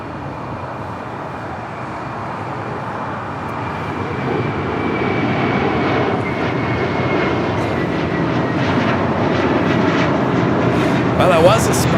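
An airliner lands on runway 25 left at Los Angeles International Airport, its engine roar building steadily from a broad rumble into a loud, sustained drone with a thin whine running across it.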